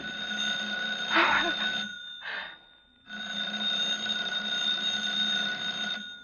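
Telephone ringing effect in a radio drama rehearsal: a bright bell ring sounds in two bursts with a short gap, then a long sustained ring after a brief silence, close and loud with a steady electronic tone throughout.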